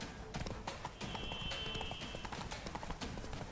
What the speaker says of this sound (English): Run, Roach, run!